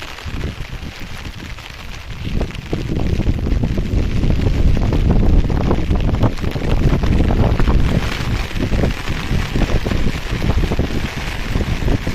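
Wind buffets the microphone on the misty Mandangad fort, a low rumbling roar that swells after the first couple of seconds and stays strong and gusty, with no one talking.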